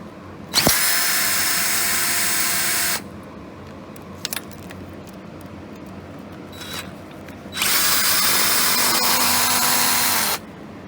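A power tool drives out the Allen bolts holding the timing chain tensioners on a Nissan 3.5 L V6 from an Altima, running in two loud, steady whirring bursts of a few seconds each, with light clinks of metal between them.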